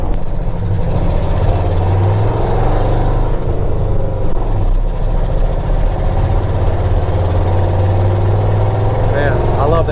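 A 3/4-ton Ford F250 Highboy 4-wheel-drive truck, a restored U.S. Forest Service vehicle, drones with a low, steady engine rumble while driving, loud and continuous from inside the cab, with faint cabin noises over it.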